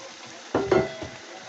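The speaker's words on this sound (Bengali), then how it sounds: "এবার আমি এর মধ্যে অ্যাড করব আমার শ্রেডেড চিকেনগুলো" Shredded chicken hits hot, oil-separated masala in a pan on low gas for restaurant-style chicken bharta, giving a few sharp, close sizzling bursts with a brief stirring scrape, then fading back to a soft simmering hiss.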